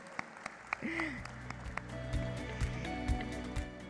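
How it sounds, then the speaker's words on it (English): Scattered claps from an audience at a company stock-exchange listing ceremony, sparse and uneven rather than full applause, heard over a low steady background tone. "And now you guys can clap for the company."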